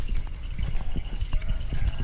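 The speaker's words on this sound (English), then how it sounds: "The little cows pulling along their little cow cart." Small cows pull a cow cart along, their hooves making a steady, rhythmic clopping at moderate distance over a busy, noisy outdoor background.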